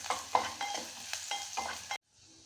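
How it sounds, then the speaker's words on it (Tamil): Finely chopped garlic frying in butter for a creamy cauliflower soup, sizzling under a spoon stirred in rhythmic strokes that scrape the pan several times before the sound cuts off abruptly. "பொடிசாக நறுக்கி வச்ச பூண்டு சேர்த்துக்கணும்."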